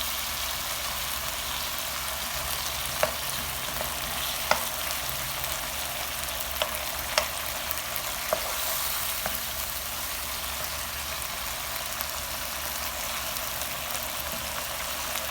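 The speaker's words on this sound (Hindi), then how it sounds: "ऑनियन को हम 1 मिनट तक कुक करेंगे" Onions sizzling in a hot pan for chili chicken, a constant hiss with a few sharp scrapes and taps as they are stirred, close and even, no talk.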